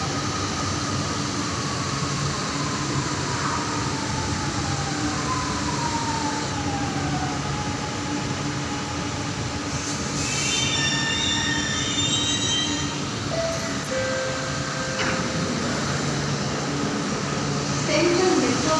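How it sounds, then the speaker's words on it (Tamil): A metro train moving through a station platform, loud and close, with a steady rumble of wheels on rails, high metallic wheel squeals and brake whines rising over it, and people talking faintly in the background. "மெட்ரோ ட்ரெயின் பார்க்கலாம் வாங்க"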